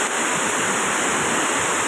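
Steady, dense rush of falling water at the fairly high Khlong Lan waterfall, a continuous broadband roar with no breaks, close by and fairly loud.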